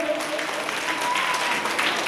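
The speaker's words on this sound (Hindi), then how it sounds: "ताली बजाइए जोर से" Audience applause for chief guests arriving on stage at a school annual function in Dumraon, a steady dense clatter of hands that fills the whole stretch, with a faint tone and some speech mixed in underneath.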